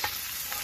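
Soft, continuous sizzling with light scraping as field rat meat is dry-stir-fried in a hot pan, two brief stirring accents, no voices.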